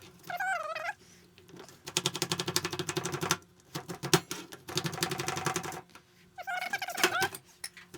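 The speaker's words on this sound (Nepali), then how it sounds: "यसरी मसिनो पातलो बनाएर काट्ने यो प्याज चाहिँ" A large onion is thinly sliced with a knife: close, rapid rhythmic tapping in several bursts on a board, with brief high chirping sounds at the start and end.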